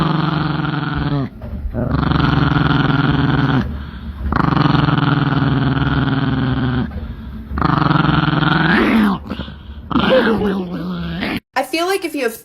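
A dog answers its owner's imitation bark with long, loud, close growling and grumbling bursts, separated by short pauses, ending in a few higher whining yelps.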